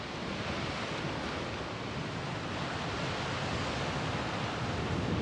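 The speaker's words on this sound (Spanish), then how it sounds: "El ruido de las olas ahí golpeando contra las rocas y del mar es tranquilizante y relajante" Sea waves crash against the rocks at Oropesa del Mar, Castellón, Spain, making a constant loud wash of surf that continues without pause, with no voices.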